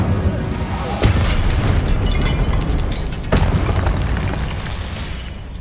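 Incendio fire spells blast in Hogwarts Legacy on PS5, a loud, dense roar of flame and impact noise with two sharper bursts about two seconds apart, close and continuous throughout.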